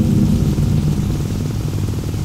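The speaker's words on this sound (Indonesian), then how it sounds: "Terpaksa aku pun terjang hujan yang lebat itu." Heavy rain in a radio horror drama set near a haunted river, a dense steady downpour with low rumbling, loud and continuous throughout without any voices.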